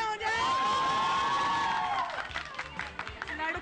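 A crowd at an awards ceremony cheers and whoops loudly, with scattered clapping and children's shouts mixed into a dense, continuous roar that swells and then breaks into bursts.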